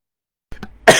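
A short cough after a brief silence, two small rough bursts followed by one stronger, harsher hack up close.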